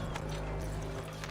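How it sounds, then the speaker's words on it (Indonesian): Horse hooves clip-clop in Assassin's Creed III Remaster, a quiet, steady trot of repeated soft thuds with low rumbling game ambience underneath, and no talk over it. "Ini kuda."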